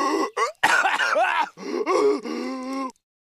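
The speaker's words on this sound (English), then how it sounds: "You cough again. Are you sick?" A cartoon starfish character lets out a series of raspy, groaning cough sounds in three bursts, the middle one longest, loud and close with no other sounds.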